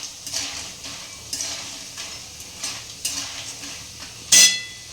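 Bori lentil dumplings are lightly fried with potato and spinach in a pan, with a soft, low sizzle under periodic scraping stirs of a spatula, then a sharp metallic clank near the end.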